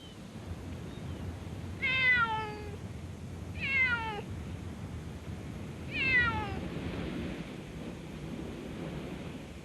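A stray cat living on a rocky jetty near Oxnard, California meows three times at spaced intervals, each call drawn out and clear over a constant low roar of surf and wind.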